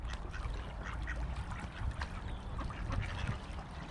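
Several ducks quack busily and close by beside a canal abroad, overlapping calls in a steady chatter with some outdoor background noise.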